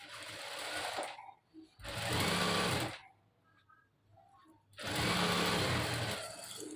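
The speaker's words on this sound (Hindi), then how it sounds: "दोनों साइड पर हमने सिंगल सिलाई चला लेनी है।" A sewing machine stitches a single seam on a dress in three loud, close bursts of fast whirring, separated by quiet pauses with faint handling sounds.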